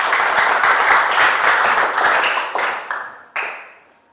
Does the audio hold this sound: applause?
yes